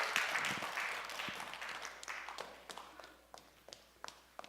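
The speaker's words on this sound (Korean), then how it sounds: "박수 주세요." A church congregation at a Sunday evening service claps, loud at first and thinning to scattered, fading claps over several seconds.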